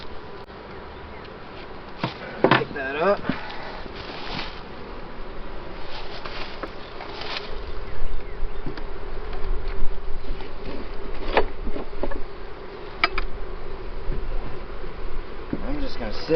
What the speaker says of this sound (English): Wow! Look at all those bees.